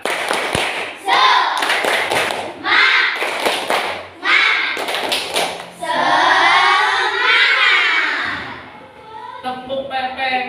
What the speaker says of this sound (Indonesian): yuk Pak Guru kita bermain tepuk tangan